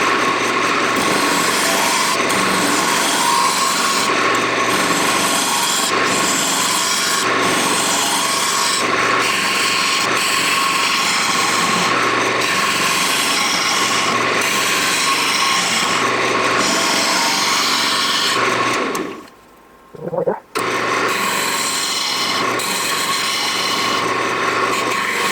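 A wood lathe turns a bowl made from scrap wood cut-off corners while a gouge takes light passes, giving a loud, steady rasping hum that runs continuously before cutting out briefly near the end and then resuming.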